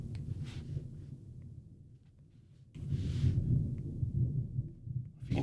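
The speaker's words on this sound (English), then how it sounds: "If you can hear that thunder, it's starting to get crazy outside." Thunder from a storm outside rumbles low and muffled in two long rolling swells with a quieter pause between, a distant, heavy drone heard alone.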